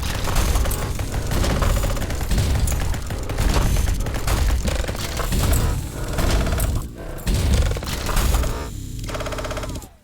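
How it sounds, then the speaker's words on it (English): Dense, continuous gunfire in the game SpaceBourne 2, rapid repeated shots blending into a loud roar with brief pauses and mechanical clicks near the end. "that gunfire is way too slow"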